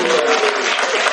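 A church congregation applauds together, with dense, steady clapping that fills the moment and stays loud and even throughout.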